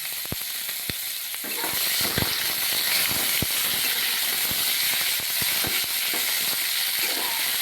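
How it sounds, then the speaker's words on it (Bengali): Cucumber pieces with green chillies fry in a pan, giving a steady loud sizzle and hiss throughout with scattered sharp crackles and pops. "শসাগুলোকে আমি হালকা ভেজে নিয়েছি।"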